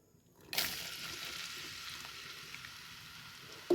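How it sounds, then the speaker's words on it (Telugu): Sliced onions dropped into heated oil in a pan burst into a sudden sizzle that settles into a steady, fairly quiet frying hiss, ending with a brief louder clatter, no voices. "ఆయిల్ మరిగాక ఆనియన్స్ అయితే వేయాలి ఫ్రెండ్స్"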